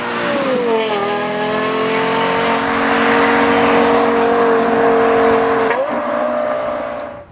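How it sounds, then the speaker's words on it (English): A Lexus LFA supercar's exhaust howls loud and close as it drives, the engine note climbing and holding high, dropping briefly, then rising again as the car accelerates. "it has the single best exhaust note of any car I've ever driven"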